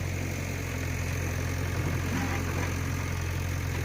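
A tractor engine runs steadily nearby while loading gravel and stones, with a constant low rumble and throb and no voices.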